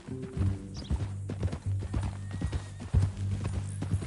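Hooves clip-clop at a steady walking pace in the video game Red Dead Redemption 2, against a low rumbling background, with a horse snorting now and then.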